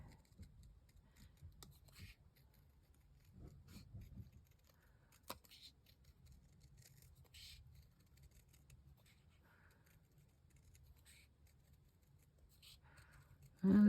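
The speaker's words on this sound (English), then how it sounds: "where's my scissors? Maybe fussy cutting it smaller." Quiet, close snips of scissors cutting paper for a recipe journal craft, scattered soft clicks and rustles with a few sharper cuts in a calm room.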